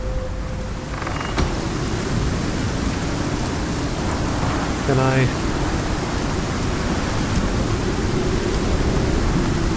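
Steady heavy rain of a storm in the game Icarus, a continuous broad wash of noise with faint low rumbles, while someone speaks briefly over it.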